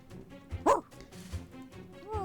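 A single distant dog bark rises over soft ambient game sound in the video game Reverse: 1999, followed by faint shuffling and a short whistling tone.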